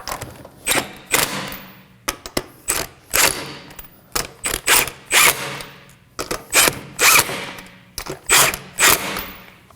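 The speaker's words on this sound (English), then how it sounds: "Snug the lug nuts." Lug nuts being snugged onto an Acura MDX rear wheel, likely with a power tool, in a series of loud, sharp mechanical bursts of rattling clatter, each lasting under a second, repeated many times with short gaps and no talking.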